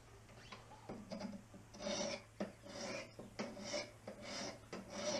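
A knife blade is drawn across a 200 grit sharpening stone in repeated rasping strokes, each scrape rising and fading in an irregular rhythm, close and moderately loud with no talking.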